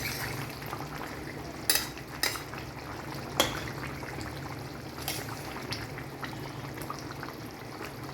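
Chicken curry masala simmers in a pot with a low steady bubbling, broken by several sharp scrapes and clinks of a spoon stirring against the pot.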